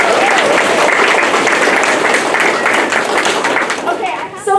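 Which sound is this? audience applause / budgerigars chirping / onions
audience applause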